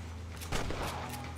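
A quick burst of close gunfire from the video game Red Dead Redemption, a couple of sharp cracks within a second over steady game background noise.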